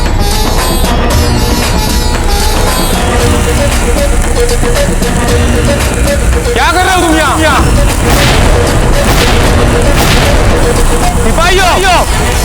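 Gunpowder blast blowing up a Mughal army tent in a Hindi historical TV drama: loud booming explosions under dramatic music, with further bursts and crackling debris following.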